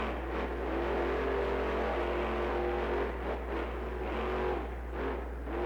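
Avenger monster truck's engine roars through a freestyle run at Snapdragon Stadium in San Diego, a loud sustained rumble with rising and falling revs and no pauses.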